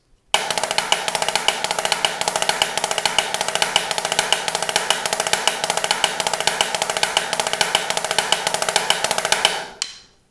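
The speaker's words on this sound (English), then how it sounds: "we're going to work on the 6-stroke roll" A snare drum plays a fast, continuous six-stroke roll of tightly packed strokes for about nine seconds, loud and even, then stops abruptly.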